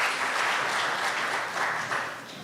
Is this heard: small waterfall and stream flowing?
no